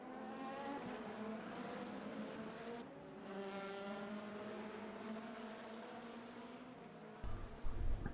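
Race cars run line astern down the main straight at Imola in Le Mans Ultimate sim racing, a faint layered whine of engines with overlapping tones, then a louder burst of engine noise at the close.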